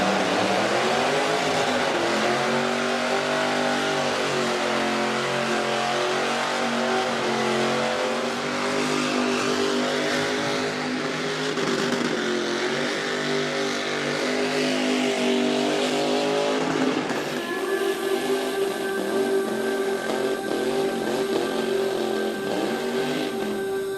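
A burnout car at the Summernats car festival in Australia roars continuously for the whole stretch, its engine revving hard and harmonics sweeping up and down, then settling into a steadier high drone near the end amid loud crowd-event ambience.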